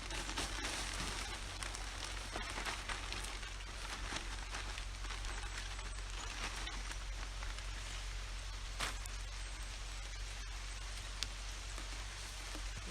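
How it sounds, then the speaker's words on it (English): Light rain falling outdoors in a garden, a steady soft patter with scattered drops, faint and even throughout with no talking. "Looks like it's starting to rain just a little bit."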